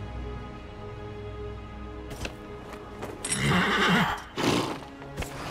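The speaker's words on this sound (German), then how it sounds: "Das jedenfalls ist unser Sumpfeinhorn." A swamp unicorn mount from the video game Dragon Age Inquisition gives a loud, horse-like whinny with a drawn-out neigh and snorting. Hoof clip-clop sounds accompany it, with no talking.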